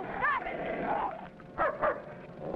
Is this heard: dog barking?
yes